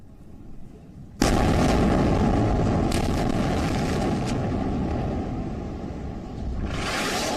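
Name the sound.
explosions from Israeli air strikes bombing Gaza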